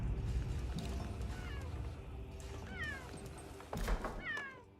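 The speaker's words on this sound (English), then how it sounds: "Find those meowing noises" Several cat meows rise and fall in short, separate calls over a low, busy game-style background hum, fairly faint with a brief louder burst near the end.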